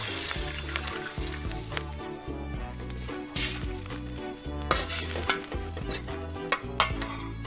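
A little water goes into a hot pan of simple stir-fried broccoli, bringing a steady loud sizzle with scraping stirring strokes that stays close and continuous and carries no voices.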